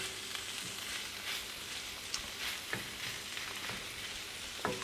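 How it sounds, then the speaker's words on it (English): Roasted poblano brisket hash sizzles and fries in a pan while being stirred and mixed, a steady crackling hiss with soft scrapes and occasional small pops, close and alone without talk. "And you just wanna mix it all in there together."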